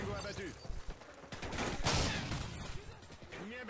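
Shotgun blasts in a Call of Duty: Modern Warfare 3 match pop faintly amid clattering game noise, with a louder burst in the middle and talk at the start and end.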